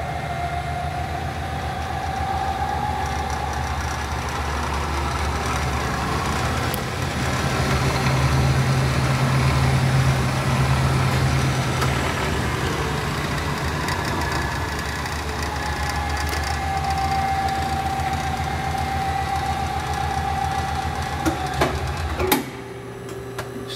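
A Hardinge HLV-H precision toolroom lathe runs steadily with its threading gears disengaged, giving a continuous mechanical hum and whine at close range that shifts in pitch partway through as the speed changes, then stops abruptly near the end.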